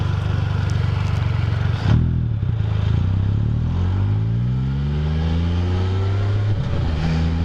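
An F3 motorcycle's engine drones while riding on a country road, a loud close roar that drops with a gear change and then climbs steadily as the bike accelerates, with wind noise underneath.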